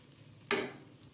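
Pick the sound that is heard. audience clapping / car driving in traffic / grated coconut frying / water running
grated coconut frying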